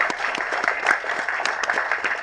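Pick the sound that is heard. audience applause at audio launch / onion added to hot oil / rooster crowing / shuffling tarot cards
audience applause at audio launch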